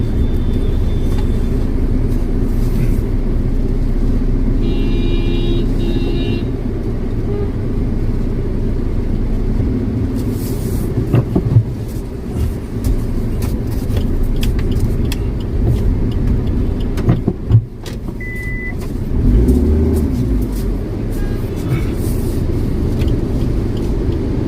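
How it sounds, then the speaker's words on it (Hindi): A car reverses on a road blocked by storm-fallen trees, its engine giving a close, continuous low rumble with a few faint knocks and brief higher tones partway through, and no talking. "यहाँ से हम बैक लेते हैं गाड़ी को।"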